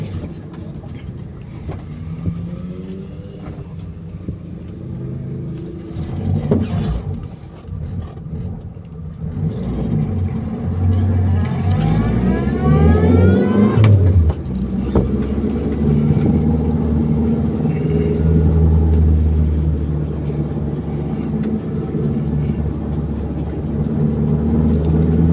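Car engine driving a lap of the Le Mans 24 Hours circuit near the Hunaudières straight, a continuous close drone that climbs through gears, with whining rising tones as it accelerates and a steady cruising hum afterward.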